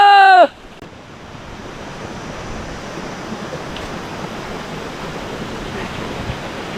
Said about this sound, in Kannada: ಎಷ್ಟು ರಭಸವಾಗಿ ನೀರು ಹರಿತಾ ಇದೆ ನೋಡ್ತಾ ಇದ್ದೀರಾ?